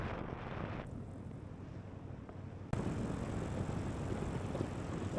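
A gyrocopter in flight over Chiang Mai, Thailand, heading into the wind, giving a steady roar of rotor and engine mixed with heavy wind buffeting on the microphone, which grows louder and rougher partway through.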